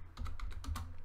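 Rapid typing on a computer keyboard during Minecraft play, a quick close sequence of crisp key clicks in an uneven rhythm with no speech over it.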